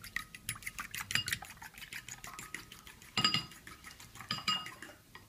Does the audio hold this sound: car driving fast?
no